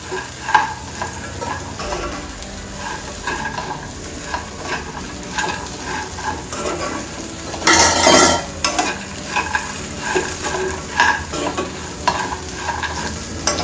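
Crispy corn kernels tossed and fried in a pan make a steady close sizzle with repeated stirring scrapes and utensil clinks, plus a louder burst of hissing midway, with no talking.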